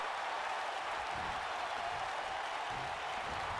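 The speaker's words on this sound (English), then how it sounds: "A massive seated senton by Joey Ryan, getting the crowd all fired up." Crowd cheering in the WWE 2K19 wrestling video game after a top-rope seated senton: a steady, dense roar of arena noise that stays level throughout, with no commentary over it.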